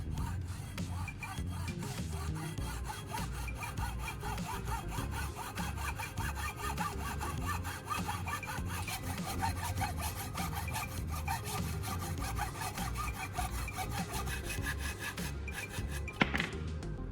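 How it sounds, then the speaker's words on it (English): A hand saw cuts steadily through a piece of wood held in a vise, in a fast, even back-and-forth rhythm, ending with a brief clunk. "I'm going to secure it in a vise to trim off the excess."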